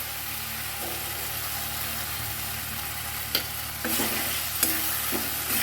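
Eggplant and pea masala with a little added sugar being stir-fried in a pan, a steady close sizzle with scraping spatula strokes and a few sharper clatters toward the end, no voices.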